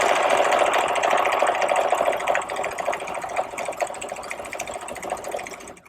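A sewing machine stitches a buttonhole bar tack in a rapid, steady mechanical whir with fine regular clicking, fairly close, easing slightly toward the end before stopping.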